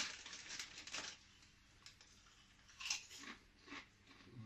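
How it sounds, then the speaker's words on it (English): Crisps crunch in a few close, uneven bites amid quiet clicks and small clinks, likely from a tea mug, during a break in a workshop building an MX5-based chassis jig. "Montage of eating crisps and drinking tea."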